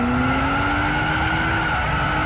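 A race car's tires squeal steadily during hard driving in Gran Turismo, one long sustained screech over constant engine drone, loud and unbroken.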